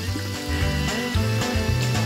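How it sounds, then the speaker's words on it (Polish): Water runs from a tap while a brush and a plastic part are rinsed under it, a steady close splashing with small shifts as the items move in the stream. "Nie zapomnij go spłukać."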